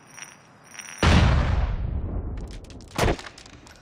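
Sniper rifle fire in GTA IV: a sharp, loud report followed by a long decaying echo, then a second, shorter shot about two seconds later, with quiet ambience between.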